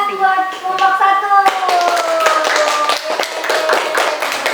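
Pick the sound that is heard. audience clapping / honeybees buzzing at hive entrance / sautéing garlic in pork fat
audience clapping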